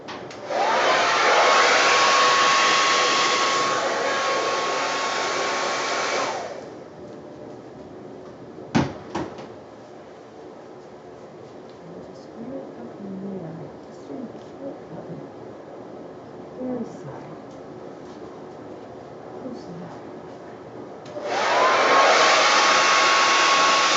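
A hair dryer blows across wet pour-painting paint: a loud steady whoosh for several seconds, a long quiet stretch with faint handling noises and a sharp knock, then the dryer roars on again.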